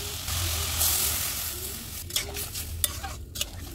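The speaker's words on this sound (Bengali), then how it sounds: "এখন এর মধ্যে পরিমাণ মতো ঝোল দিয়ে দিব।" Broth goes into a pan of sautéed, salted vegetables, bringing a loud sizzle and stirring scrapes that settle into a softer bubbling with a few sharp clinks.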